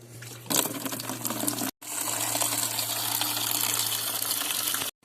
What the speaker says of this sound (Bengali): দেবো গাছে জল, বালতি নিয়ে চলে এসেছি।